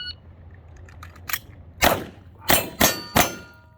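A pistol fires one shot at each of three targets, making sharp loud reports. A quieter pop comes first, then the main shots ring out in quick succession on a range.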